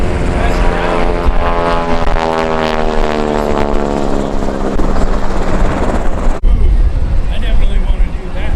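A classic propeller airplane at an airshow drones loudly overhead, its engine pitch sliding steadily as it passes, while a commentator talks over the noise and wind rumbles through.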